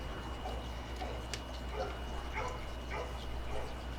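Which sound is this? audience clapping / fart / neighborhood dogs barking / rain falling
neighborhood dogs barking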